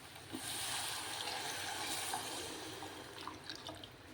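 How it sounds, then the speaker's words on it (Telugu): Water pours steadily into a cooking pot holding soaked prawns and lentils for a curry, a continuous close splashing stream that tapers off toward the end. "వాటర్ వేసుకుందాం"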